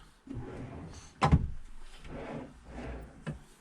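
A wooden kitchen drawer in a caravan under construction slides and knocks shut once with a short, close thump, amid quiet room noise.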